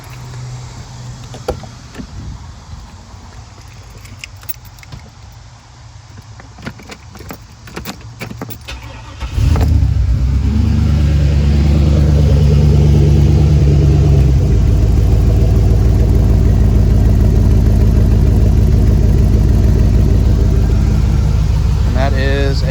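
An LQ4 V8 swapped into a Rover, with a Summit stage 1 truck cam, cranks after keys rattle and a door sounds, then fires into a loud, deep, lumpy idle that rises into revving.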